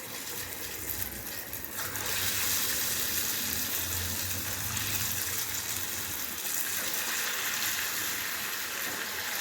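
Dal vada frying in hot oil, a steady dense sizzle and crackle running continuously at close range with no talk.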